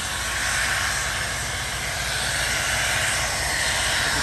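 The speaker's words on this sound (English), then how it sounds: "There's some kind of venting coming from the overlaunch platform" Continuous loud hissing of gas venting from the launch platform at SpaceX's South Texas Starbase launch site, a steady broadband roar that holds without pause.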